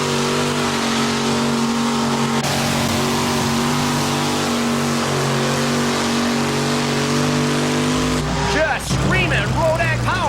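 Two-wheel-drive pulling truck engine revving hard and steady during a full pull on a dirt track at a 1990 NTPA national truck pulling event in Pocono, then cutting out, with loud crowd and announcer chatter rising afterward.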